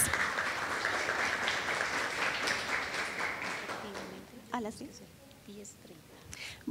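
An audience at a social work panel discussion applauds to welcome the panelists, a dense burst of clapping that fades out after about four seconds, followed by faint murmurs and scattered rustling.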